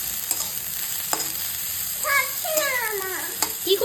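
Fried rice frying and being stirred in a pan gives a steady close sizzle with spatula scrapes, and some squeaky, rising and falling high tones join it in the second half.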